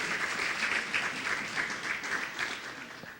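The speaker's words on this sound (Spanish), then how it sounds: "un aplauso al Señor" A church congregation applauds in praise of the Lord, a steady, dense wash of many hands clapping together that fills the room evenly for the whole stretch with no voices on top.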